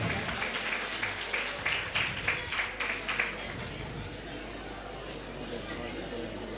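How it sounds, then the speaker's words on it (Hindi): An audience at a community ceremony claps for a girl student honoured for her exam marks, a burst of applause in the first half that fades into murmuring chatter and room noise. "आप सभी ताली बजाकर इस बालिका का मनोबल बढ़ाएं।"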